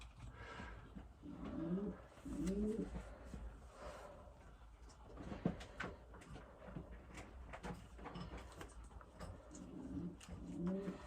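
Pigeons, young racing birds in a loft, coo softly in low, rolling phrases, a few repeated calls at intervals with faint shuffling and a brief knock in between.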